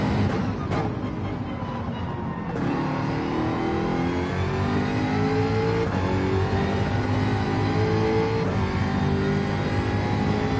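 A Gran Turismo race car engine revs hard on the Grand Valley track. Repeated rising whines climb through the gears, with sharp breaks at the shifts. The sound stays loud and close throughout, with no voices.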